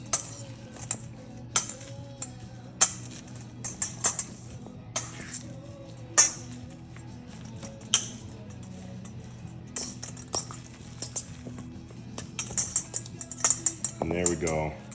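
Burger meat and breadcrumbs being mixed for steakhouse burgers, heard as a series of sharp clinks of a utensil against a bowl, irregular and close, with a short rattling burst at the end.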